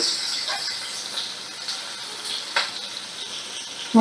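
Sliced onion drops into hot mustard oil in a pan while cooking a pomfret fish dish with gati kachu, a faint steady hiss and crackle with a few soft pops, heard alone.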